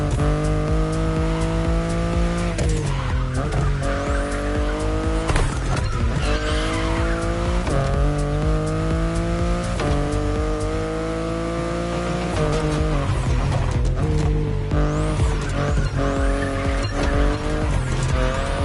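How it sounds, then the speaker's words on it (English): A BMW i8 hybrid sports car in The Crew Motorfest racing game, its engine revving loudly through repeated gear shifts with tire squeal and skidding throughout and no talking. "the i8, the sports car you're driving"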